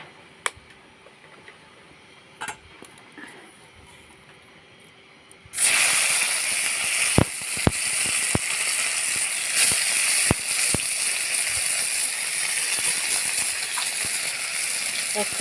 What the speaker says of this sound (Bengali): ওই একই কড়াইতে আমি খানিকটা সর্ষের তেল দিয়ে দেবো চিংড়ি মাছগুলো ভেজে দেওয়ার জন্য।